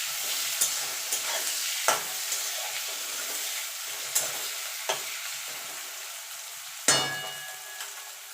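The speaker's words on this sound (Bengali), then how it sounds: "এবার পেঁয়াজটা একটু ভাজা ভাজা করে নেব।" Onions frying in oil in a pan while being stirred: a steady soft sizzle with occasional sharp scrapes and clinks of the spoon, heard alone at close range.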